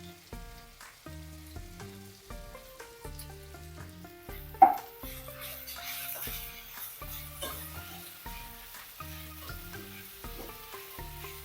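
Chopped carrot sizzling and frying in a pan for an omelette, a constant crackling hiss with a sharp clink partway through while music plays along.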